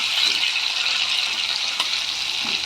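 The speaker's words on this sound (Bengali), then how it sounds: "আলুটা লাল লাল করে ভেজে নেব।" Potato pieces sizzle steadily in hot oil in a pan while cooking a rui fish kalia, giving a loud, continuous bright hiss with small crackles and no talking.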